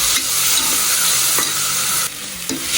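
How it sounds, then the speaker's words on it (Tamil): Tomato and ginger-garlic paste sizzles steadily in a hot pan, with a loud, continuous frying hiss broken by a few scraping stirs. No voices are heard. "தக்காளி, இஞ்சி பூண்டு அதை போட்டு வதக்கணும்"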